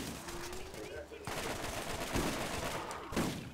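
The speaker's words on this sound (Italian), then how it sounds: "Spari bene, Edoardo." Gunfire rattles through a Borderlands firefight on PC, fairly quiet rapid shots in short bursts under game ambience and muffled voices.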